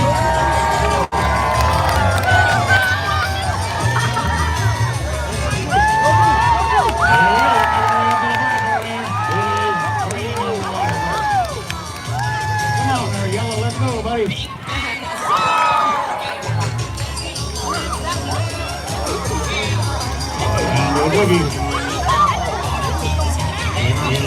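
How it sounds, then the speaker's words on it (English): Festival crowd cheering and whooping at a splash race at the Florida Strawberry Festival in Plant City, a steady loud roar of voices with shouts rising and falling throughout. "now we need to hear some cheering when they get up on that diamond platform"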